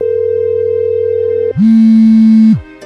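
An unanswered phone call: a steady ringback tone holds for about a second and a half, then shifts to a lower, louder electronic tone before cutting off, with no voices.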